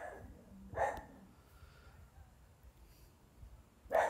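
Dogs bark twice, short sharp barks at the start and again at the end, fairly faint against a quiet room background.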